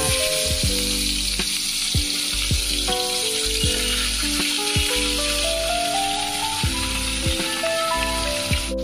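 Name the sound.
fish frying in hot white oil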